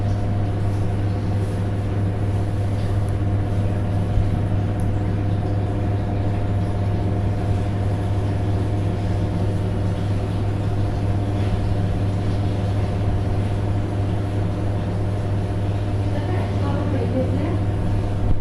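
Samsung washing machine on its spin-dry cycle gives a steady, droning motor hum with a constant whir, unchanging and fairly close throughout.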